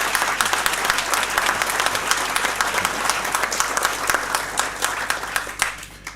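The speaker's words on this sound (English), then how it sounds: "now you can give everybody a clap" A membership crowd at a bar association annual meeting applauds retiring board members, thick continuous clapping that stays loud throughout and tapers at the very end.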